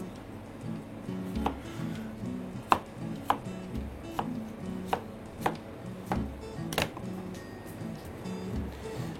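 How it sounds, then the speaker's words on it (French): A knife chops pears steadily on a cutting board, about a dozen sharp, evenly spaced knocks over a low background hum. "On va couper les poires en morceaux qu'on va mettre dans une casserole."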